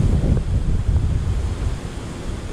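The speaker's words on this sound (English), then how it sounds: "mainly because of the headwind. It is really strong today." Strong headwind buffeting the microphone on a bike ride near Widecombe in the Moor, a steady low rumbling roar of wind with no other sounds.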